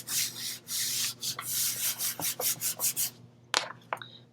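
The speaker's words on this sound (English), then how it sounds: "if you've got something, brayer, the mat scraper, or whatever, just kind of help burnish that down" Glued paper on a Halloween gift bag being burnished down with a brayer or mat scraper: a run of repeated rubbing strokes, close and fairly loud, followed by a couple of sharper scrapes, with no talking.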